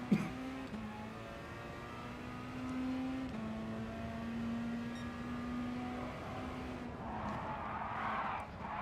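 A racing video game car skids and downshifts through a turn, with a steady engine drone that shifts pitch and a burst of tire screech near the end, fairly faint.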